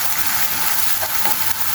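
Two finely chopped onions fry in a mixture of oil and cheese in a pan, giving a steady close hiss with soft stirring scrapes throughout.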